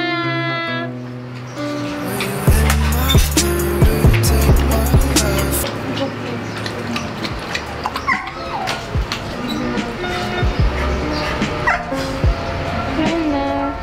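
Several pet dogs bark in sharp bursts and whimper at close range, mixed with people talking over them.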